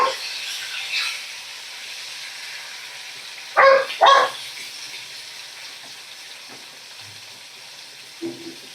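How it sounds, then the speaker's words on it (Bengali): Fish fry in a pan over a medium-high flame, turned to cook the second side, with a faint steady sizzle throughout. Midway, two short loud bursts that sound like a dog barking cut through it. "মাছগুলো আমি এইভাবেই ভাজা করে নিচ্ছি"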